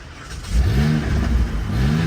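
A car with an erratic throttle that stalls unless given gas, its cooling fan running constantly, revs twice: a rising engine surge lasting about half a second, a pause, then a second climbing rev, close and fairly loud with no talk.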